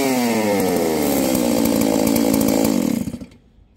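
A new Stihl 381 (038) chainsaw running at half choke, a loud, close, steady engine drone with a slight wavering pitch that cuts out near the end.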